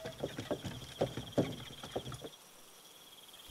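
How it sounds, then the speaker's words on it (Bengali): Bullock cart in rain in a Bengali horror cartoon, a rhythmic series of wooden clip-clop knocks and rattles over soft patter, stopping abruptly halfway, leaving near silence before a sudden thump at the end. "খটর খটর শব্দ করতে করতে একটা গরুর গাড়ি এদিকেই এগিয়ে আসছে।"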